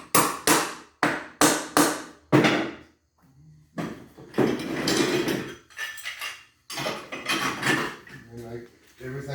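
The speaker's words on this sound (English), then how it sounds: "You can tap them down with a hammer." Sharp hammer taps drive carriage bolts into a board, arriving in quick bursts of several metallic knocks, close and loud, with someone talking between and after the strikes.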